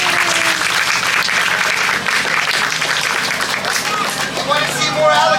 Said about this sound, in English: Applause for the alligators.